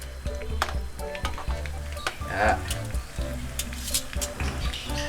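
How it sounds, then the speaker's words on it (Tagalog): Oil sizzles and crackles steadily as cheesy lumpia shanghai fry in a pan, with scattered pops and light stirring sounds close by. "Prito natin until mag-golden brown ang kulay."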